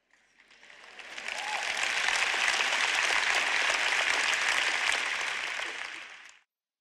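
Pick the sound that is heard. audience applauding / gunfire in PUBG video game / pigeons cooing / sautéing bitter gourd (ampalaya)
audience applauding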